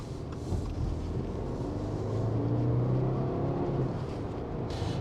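Subaru WRX petrol engine accelerating in comfort mode, a steady low rumble with a rising drone that builds through the middle and holds under continuous road and cabin noise, fairly loud and close.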